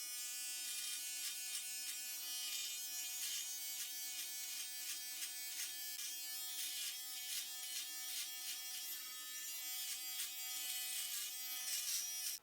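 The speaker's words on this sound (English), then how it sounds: "I just decided to trim down my entire beard and in 10 millimeters" A Philips electric trimmer set to 10 millimeters cuts down a full beard with a close, steady, high-pitched buzz. The motor's pitch wavers slightly as it passes through the hair, with no talking.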